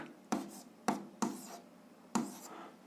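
Pen strokes on paper while a calculation is written down sound as four soft, close scratchy taps with short trailing scrapes, spaced irregularly.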